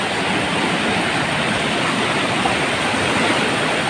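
Strong floodwater rushes past close by, a loud, continuous roaring hiss of churning water with no pauses and no voices over it.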